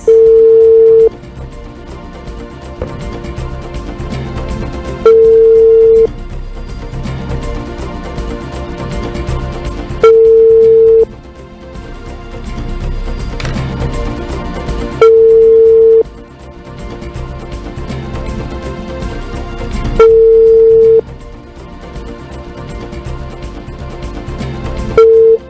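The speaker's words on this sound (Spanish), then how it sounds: "Ahí suena. El número telefónico del abogado Fernando González." A telephone line gives a ringback tone while a lawyer's number is called, with about six evenly spaced, roughly one-second tones every five seconds over a steady background.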